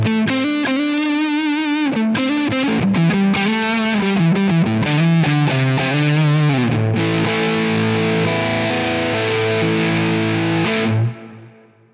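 A distorted electric guitar played through a Quad Cortex Soldano amp model with an impulse response, loud and alone: rhythmic chugging riffs and chords give way to a sustained ringing chord that cuts off near the end.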